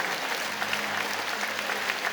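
A large church fills with steady, continuous clapping from a big congregation during a Sunday service, even and sustained with a faint low hum underneath.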